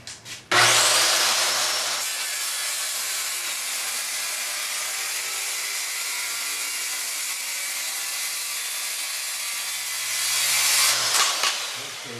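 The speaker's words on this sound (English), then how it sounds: "I'm cutting it just with a regular 10-inch saw, and it has a standard wood cutting blade" A 10-inch saw fitted with a standard wood-cutting blade whines steadily as it slices through quarter-inch high density polyethylene, starting abruptly and running at a constant loud pitch until the cut finishes.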